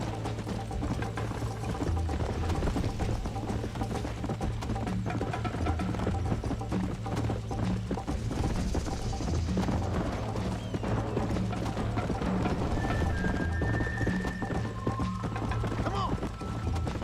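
Horse hooves clip-clop steadily in the game Red Dead Redemption, a rhythmic trot mixed with game ambience and low mechanical noise, while a voice speaks now and then.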